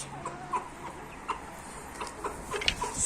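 Soft, scattered clucks and short chirpy calls from chickens in a coop, fairly faint against a quiet outdoor background.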